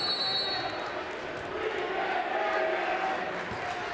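Crowd noise in a high school boys' basketball gymnasium, a steady wash of cheering and chatter with occasional shouts, moderately distant and fairly quiet throughout.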